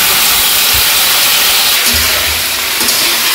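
Vegetables hit a hot pan in a Bangladeshi village kitchen while a vegetarian dish is cooked, giving a loud, steady, close hiss of sizzling that lasts throughout with small clatters underneath.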